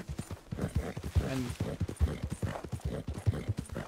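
In the video game Red Dead Redemption 2, a steady clip-clop of horse hooves on a hard surface, several quick strikes in a rolling rhythm, with a brief spoken word over them.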